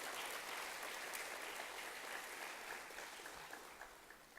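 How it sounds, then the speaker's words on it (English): Steady applause from an audience at an evening event in Singapore fills the space, a dense continuous clapping that holds evenly and then tapers slightly toward the end, with no talk over it. "that really deserves another round of applause"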